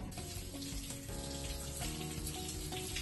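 Steady shower spray splashes continuously during hair washing, a dense broadband hiss with faint shifting tones as the flow hits hair and skin, close by and unbroken, with no voices.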